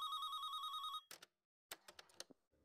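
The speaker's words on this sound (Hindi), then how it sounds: "ना बेल तो जा रही है।" A house telephone keeps ringing unanswered, one loud clear electronic ring for about a second, then a pause and a burst of short clicking, beeping tones like an answering machine engaging.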